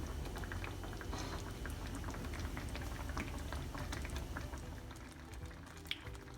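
Green tomato curry bubbles and simmers over a medium-high flame, a continuous soft patter of small bursting bubbles, fairly quiet and close.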